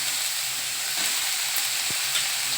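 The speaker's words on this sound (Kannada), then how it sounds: "ಈಗ ಚೆನ್ನಾಗಿ ಸ್ವಲ್ಪ ಕೆಂಪಾಗುವಂಗೆ ಹುರಿಯೋಣ ಇದನ್ನು." Banana flower frying in hot oil with curry leaves and dried chillies, a steady close sizzle and crackle running the whole way, with a faint stir or clink near the end and no talking.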